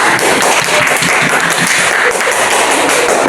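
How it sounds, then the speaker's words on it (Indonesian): A fifth-grade class applauds a student group in an Indonesian lesson, many hands clapping in a dense, loud, steady patter that fills the whole stretch without talk. "tepuk tangan dulu untuk kelompok 3."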